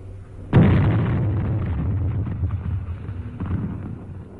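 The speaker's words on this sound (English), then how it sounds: "Toss in a grenade and let them divide it." A grenade explodes in a wartime dugout: one sudden, loud blast followed by a rumbling, crackling decay that lingers for several seconds.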